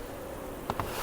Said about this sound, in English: So these bees are locked in the top.